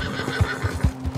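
A horse in Red Dead Redemption II whinnies loudly twice in quick succession, close and clear over a low game-world hum, with no talking.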